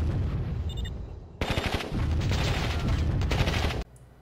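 Machine gun tower fire in the strategy game Warzone 2100: a dense, continuous burst of rapid shots over a low rumble, starting abruptly partway through and cutting off sharply near the end.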